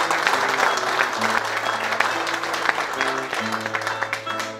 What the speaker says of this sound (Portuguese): Deiam palmas para os tocadores que estão a tocar para a gente.